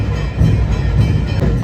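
A train pulling into a station, heard as a close, steady low rumble with rolling wheel and carriage noise throughout, without any voices.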